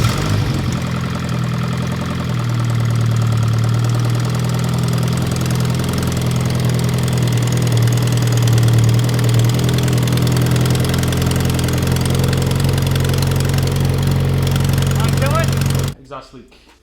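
A Mitsubishi Evo X engine idles steadily right after a new turbo install, a close, continuous low rumble with a small exhaust leak, holding even for about sixteen seconds before cutting off abruptly.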